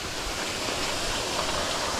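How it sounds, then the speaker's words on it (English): Big Rock Falls, a waterfall on a mountain hiking trail, roars as a steady, broadband rush of falling water, close and loud, with no voices. "So this is Big Rock Falls."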